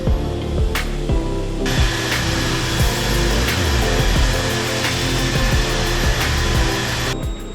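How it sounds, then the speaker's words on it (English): A power sander with coarse sandpaper leveling a wooden bench surface and joints for a modern bench build, a loud steady whirring and grinding drone, close and continuous, with brief dips in the motor tone and no talk. "I'm starting with a coarse sandpaper to level the surface"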